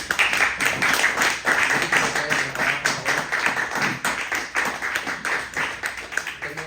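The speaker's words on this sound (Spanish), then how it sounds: "Y denle un fuerte aplauso al Señor Jesús." Congregation in a church clapping together, a loud, continuous, slightly pulsing roll of many hands that holds steady throughout without a break.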